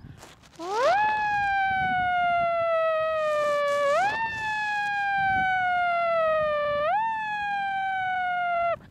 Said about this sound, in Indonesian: Raungan ambulan